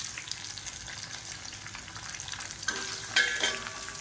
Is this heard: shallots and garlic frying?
yes